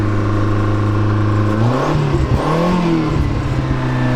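A 1987 Dodge Charger GLHS engine runs at a high idle close by, a loud steady drone that dips and swells briefly midway before settling back to an even hum.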